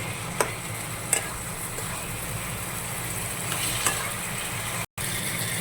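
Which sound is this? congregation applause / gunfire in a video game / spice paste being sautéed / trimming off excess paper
spice paste being sautéed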